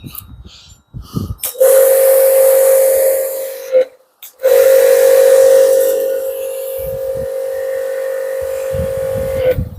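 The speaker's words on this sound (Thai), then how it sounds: "เรื่องความแรงน่าจะแรงกว่านะ แต่เส้นเส้นน้ำเขาจะเล็ก เสียงปั๊มจะเงียบ เงียบกว่านะ" A DELTON 220 bar pressure washer sprays through a zero-degree nozzle, a loud steady hissing jet with a constant whine that starts, cuts out briefly, then resumes and fades, with faint talk at the edges.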